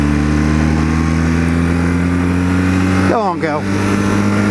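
An old motorbike engine runs close by with a steady low drone under gusting wind, and a voice speaks briefly near the end.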